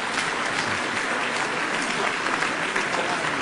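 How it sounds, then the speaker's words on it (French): Steady, full audience applause at a French community gathering in New Delhi, a dense continuous clapping wash that stays even and loud throughout the few seconds with nothing else cutting through. "on applaudit aussi les ministres"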